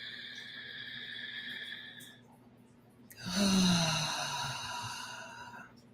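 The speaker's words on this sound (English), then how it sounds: "Inhale and exhale." One long, deep breath is taken in and then released in a loud, rushing exhale during a guided breathing session, close and alone.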